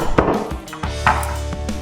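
Chinese cabbage being cut into quarters with a knife on a board in a home kitchen, a few loud, separate chopping thuds spaced irregularly, close up with no talk.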